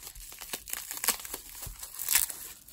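Tape is pulled and peeled off a packaged football card lot, making a close, continuous crinkling and tearing with a few sharper rips. No one speaks.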